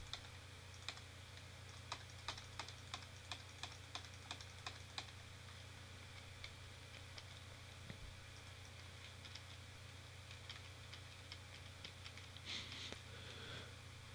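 Computer mouse clicks and keyboard delete-key presses tap out in quick bursts, then scattered single clicks, quiet and close over a faint steady hum while editing in the Hammer Source SDK.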